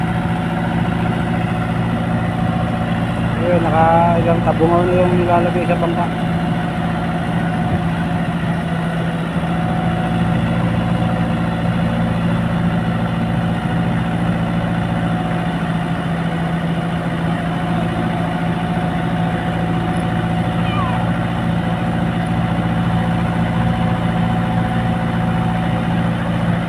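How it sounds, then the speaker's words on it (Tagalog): A loud, steady engine drone runs throughout, a noisy water pump motor chugging close by at a milkfish farm harvest, with a brief spoken phrase early on. "maingay yung ating bomba"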